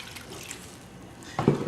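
Liquid marinade with pineapple juice poured into a bag over pork, a soft watery splash and gurgle building near the end after a quiet stretch of low background noise.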